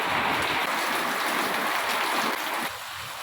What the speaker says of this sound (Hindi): देखिए हमारे अहमदाबाद में माशाल्लाह कितनी अच्छी बारिश शुरू हो गई है।